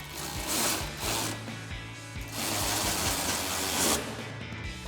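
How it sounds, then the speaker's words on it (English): A ratchet with a 13mm socket tightens the bolts of Barricade 6-inch running boards on a 2009-2018 RAM 1500, making several quick bursts of clicking ratchet strokes separated by brief pauses. "We're going to grab our 13mm socket on our ratchet for our combo bolts."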